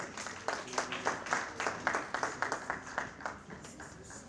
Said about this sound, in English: Can we please welcome the rep with a round of applause?